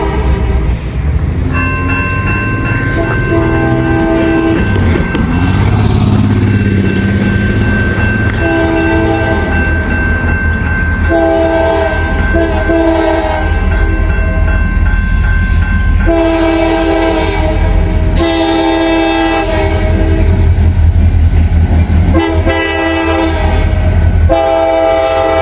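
Freight train rolling through a level crossing, its horn blaring repeatedly in long chords over a steady rumble and clatter of wagons, close and loud throughout.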